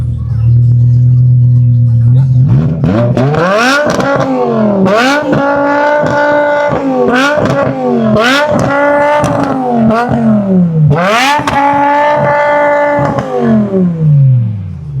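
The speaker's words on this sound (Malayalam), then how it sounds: "M6ന്റെ എക്സോസ്റ്റ് നമുക്ക് ജസ്റ്റ് ഒന്ന് കേട്ട് നോക്കാം." At a car meet in Canada, a stock-exhaust BMW M6 convertible idles and then is revved hard several times. Each loud, close blip climbs and falls sharply, the blips coming in quick succession.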